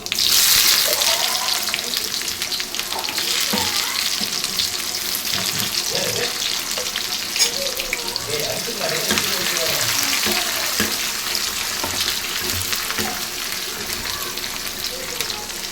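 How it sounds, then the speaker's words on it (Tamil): Mustard seeds, fenugreek and shallots splutter in hot oil at the start of a fish curry, a dense, steady crackling sizzle that runs throughout with a faint voice underneath. "கடுகு நல்லா பொன்னரமாக வந்துடணும் கடுகு நல்லா பொரிஞ்சிடணும்"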